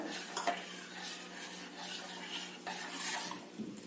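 Boiled milk and kheer mixture are stirred in a pan off the heat, and a spoon scrapes and knocks softly against the metal. The sound is faint and continuous, with a low background hiss.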